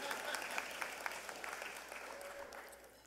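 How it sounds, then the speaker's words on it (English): Audience applause fills a scholarship dinner hall, a dense, steady patter of many hands that stays fairly even before tapering slightly toward the end, with no speech over it. "you can clap if you feel like it."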